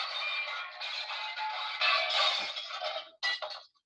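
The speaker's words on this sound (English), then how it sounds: "It's like the broken glass for making silly jokes" A broken-glass sound effect plays during a virtual event, a bright jangling of shards that clinks and scatters for several seconds. A short final crash of tinkling pieces comes at the end.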